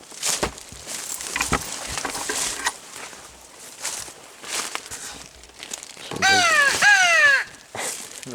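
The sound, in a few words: crow call device imitating a crow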